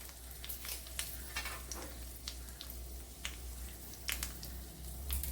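Cut dried red chillies sizzling in hot ghee in a pan for mango pulissery, a soft continuous fry with frequent crackling pops scattered throughout, quiet and close with no talking.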